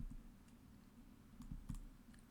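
Python code being typed on a computer keyboard, a quiet scattering of close key clicks with a few firmer taps near the end, no voices.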